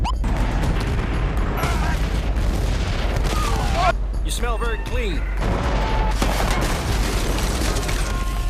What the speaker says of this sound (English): Battlefield Bad Company blows up a lot of things really well